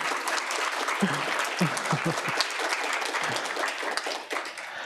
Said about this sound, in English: can give our speakers just a quick round of applause